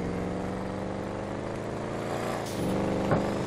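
A steady, rumbling Chevy Suburban truck engine in the video game GTA 5 drones on throughout, loud and close, with a faint brief hiss near the end.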